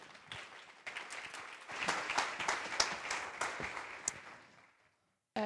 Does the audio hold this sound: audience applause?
yes